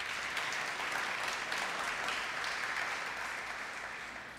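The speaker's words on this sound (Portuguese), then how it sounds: "Dá um aplauso ao Senhor aí." Dense applause from a church congregation fills the room at a Brazilian worship service, steady and even at moderate distance, tapering slightly at the end, with no speech over it.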